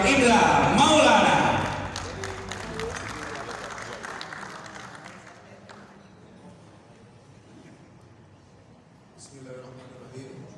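Loud applause greets a speaker at the Unpad Innovation and Business Summit 2025 in a Shangri-La Hotel hall. It peaks in the first two seconds, then thins and fades to a quiet room, with a voice audible near the end.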